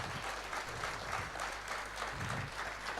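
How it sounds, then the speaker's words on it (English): Applause from the audience at a company silver jubilee celebration, a dense steady patter of clapping heard at a moderate distance, fairly quiet and continuous, with a low hum underneath. "Can we have a round of applause for that?"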